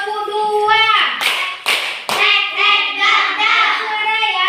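A classroom of children claps together as a warm-up, with two sharp, loud unison claps in quick succession amid lively young voices chanting and talking.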